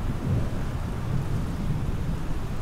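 Steady rain and rumbling thunder in a Microsoft Flight Simulator storm at Notodden Airport in Norway, heard as a continuous low roar with heavy drumming rain throughout and no speech.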